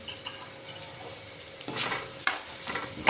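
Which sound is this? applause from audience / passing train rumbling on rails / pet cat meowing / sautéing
sautéing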